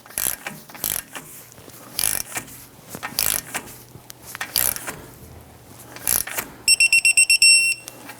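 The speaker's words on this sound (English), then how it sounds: "Tighten down your outer tie rod here to 35 foot-pounds." Torque wrench work on the outer tie rod end of a 1997-2006 Jeep Wrangler, tightened to 35 foot-pounds: scattered metallic clicks and knocks, then a quick run of about six sharp ratchet clicks near the end, close and clear.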